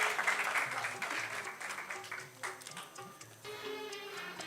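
Audience at a remembrance music event applauds to welcome the first speaker, soft scattered clapping heard at a distance and fairly faint, with light musical tones beneath.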